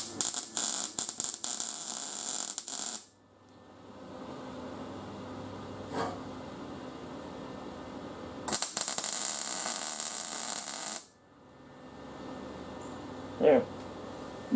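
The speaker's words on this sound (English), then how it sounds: "So just give it tack welds." Horseshoes are tack welded together for a pumpkin sculpture. Two harsh, steady buzzing arc bursts of a few seconds each are separated by a low hum and a brief clank, close and fairly loud.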